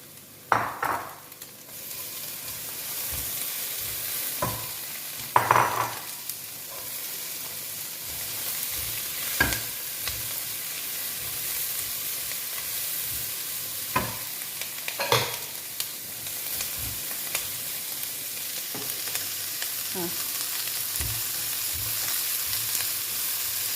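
Cut peppers and zucchini sauté in a pan, a continuous sizzle broken by repeated clacks and scrapes of stirring, with several louder knocks, and no one talking.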